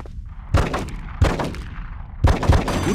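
Three loud, close gunshots fired at a steady interval of about a second from a weapon in the Die Hard: Vendetta video game, each a sharp broadband crack with a short ringing tail, heard alone without voices.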